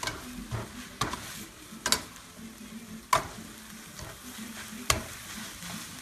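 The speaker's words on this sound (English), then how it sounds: "Turn the heat up, make sure these breadcrumbs are all" Breadcrumbs fry in a hot pan over high heat under a constant low sizzle, broken by several sharp clacks and scrapes as the pan is tossed and stirred, with no talking.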